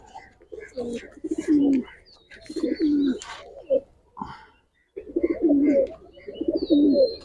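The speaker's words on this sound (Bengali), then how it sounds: "এটা হ্যামার কবুতর" Giribaz and Hammer pigeons cooing in a loft, several close, deep rolling coos repeating in bursts with short pauses between, plus a few faint chirps.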